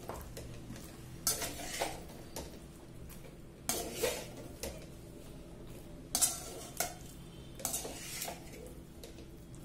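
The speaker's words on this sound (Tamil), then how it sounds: "நல்லா எல்லா சிக்கன்லையும் சாஸ் கோட் ஆகுற மாதிரி மிக்ஸ் பண்ணிக்கோங்க." Chicken wings being tossed in sauce in a bowl, with repeated soft scraping and clinking strokes of a spoon against the bowl at an uneven rhythm, close but quiet, with no talking.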